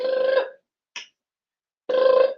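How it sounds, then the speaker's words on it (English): A phone rings in two loud, close, buzzing bursts separated by a pause, with a short faint click between them. "something about the phone ringing"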